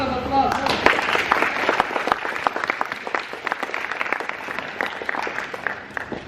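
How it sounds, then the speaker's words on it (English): Audience applause at a public speaking session, dense clapping from a crowd sustained throughout, fairly close and steady with individual claps standing out. "give them another big round of applause"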